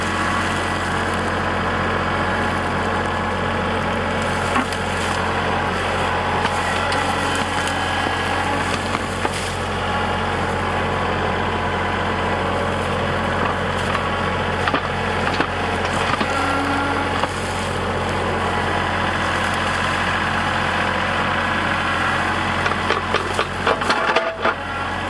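A tractor-mounted stump bucket digs out a recently cut Christmas tree stump on a tree farm. A steady engine rumble runs throughout, with intermittent woody cracking and splintering over it, and a burst of sharper crunches near the end.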